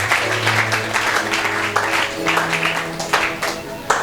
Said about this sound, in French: Est-ce qu'on peut acclamer pour notre sœur?